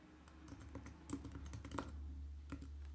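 A website address is typed on a computer keyboard as a quick, uneven patter of soft key clicks over a low hum, close and faint.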